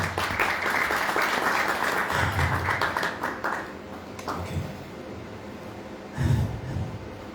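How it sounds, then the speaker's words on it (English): An audience at a press conference gives a short round of clapping that fades after a few seconds, followed by quieter room noise and a brief breathy sound near the end. "A round of applause for Ezra."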